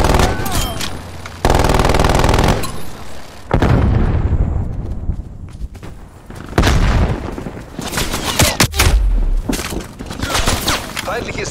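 Gunfire in Call of Duty Black Ops Cold War multiplayer, with an automated turret among it, comes as loud sustained bursts and heavy booming blasts, broken by short gaps, over in-game voice callouts.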